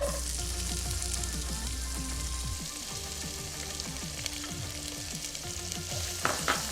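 Onions and garlic dropping into hot oil for vegan kimchi fried rice, a loud continuous frying hiss with a string of quick stirring scrapes and taps, and a sharper clatter near the end.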